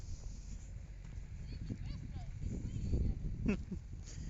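Soft hoof clops sound on the ground with a person talking quietly over them, fairly faint and irregular.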